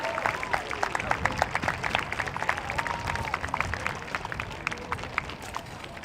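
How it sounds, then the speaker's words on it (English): A concert audience gives sustained applause for second-year band students, dense clapping steady across the hall from start to finish, with faint crowd murmur mixed in. "let's give our second year band students a big round of applause"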